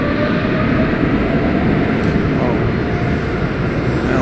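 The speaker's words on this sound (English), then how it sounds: "This MD-11 is going to Chicago Rockford International" A continuous broadband jet roar from an MD-11 airliner at DFW Airport holds steady and loud with no breaks, a heavy engine drone filling the whole stretch.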